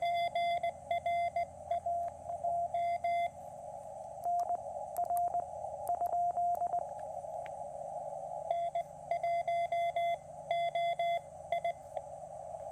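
Morse code beeps from a QMX amateur radio transceiver, a steady high tone keyed in short and long pulses over faint static hiss, with a few pauses.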